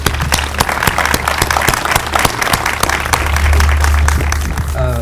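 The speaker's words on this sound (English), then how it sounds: "If we could give everybody one more round of applause." An audience at a university fine arts center dedication and ribbon-cutting ceremony claps in a loud, dense, sustained round of applause that fills the whole stretch.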